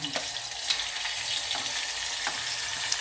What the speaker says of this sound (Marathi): तर आता टमाटर टाकणं चालू आहे